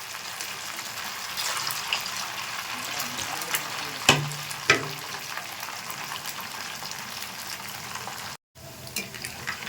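Semolina sweets sizzle steadily in hot oil in a pan. Two sharp clinks or knocks of a utensil come through partway, and the sound cuts out briefly near the end.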